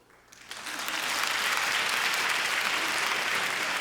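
Audience applause rises quickly after a short quiet lead-in and then holds as steady, dense clapping from a large crowd of women answering a question at a French-language comedy show. It stays loud and continuous to the end, with no voices over it.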